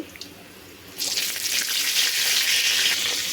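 Curry leaves go into hot oil for vatha kuzhambu. After about a second of near quiet, a loud, bright sizzle bursts up and holds steady, close and continuous to the end.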